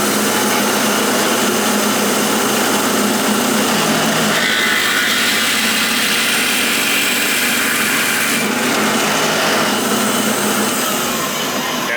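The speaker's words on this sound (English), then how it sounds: "this is a 7/8 diameter carbide tipped drill bit" A power drill boring through wood with a 7/8 inch carbide tipped bit while building a guitar from a template, a loud continuous high whine and grinding that shifts pitch partway through as the bit bites, with no talking.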